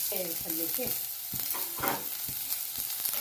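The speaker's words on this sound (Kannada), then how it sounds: "ನೋಡಿ ಹೇಗೆ ಎಣ್ಣೆ ಚಟಪಟ ಅಂತ ಸಿಡಿತಾ ಇದೆ" Oil spatters and sizzles in a pan while tempering onion and dried red chilli for a greens palya, with a steady crackling hiss broken by sharp pops, close and alone with no talk.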